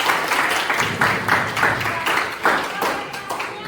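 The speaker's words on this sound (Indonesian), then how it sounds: "Tepuk tangan dulu semuanya." A classroom of students clapping together in a dense, continuous burst of applause lasting several seconds, with a voice faintly audible underneath.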